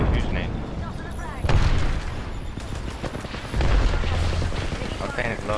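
Grenades go off in Apex Legends Arenas as deep, loud booms, two heavy blasts a couple of seconds apart over dense game noise, while people talk throughout.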